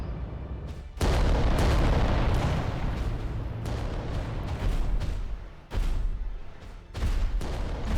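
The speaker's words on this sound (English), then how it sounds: "See, our rocket's kind of hitting other units" Rockets strike enemy units in the Adeptus Titanicus: Dominus war game as heavy, booming blasts in several rolling bursts, each breaking off sharply before the next volley.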